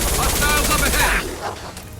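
Rapid gunfire from a firefight in Mass Effect 2, a dense loud burst of shots lasting about a second before dropping to a fainter tail with a last distant report.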